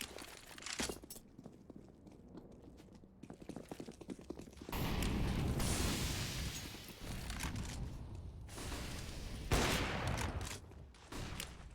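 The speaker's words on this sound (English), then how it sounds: "Tender does land that initial headshot onto Becker" Rapid gunfire from a Counter-Strike match on the Overpass map: bursts and sustained volleys of shots, loud and dense, with a heavy stretch of firing midway and a final sharp burst near the end.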